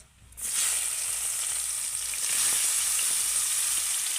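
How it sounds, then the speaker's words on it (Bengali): Chopped onion hits hot oil with whole garam masala of cinnamon, cardamom and cloves, breaking into a loud, bright, continuous sizzle after a short quiet start and holding steady at close range. "পেঁয়াজটাকে আমি ভেজে নেব হালকা করে"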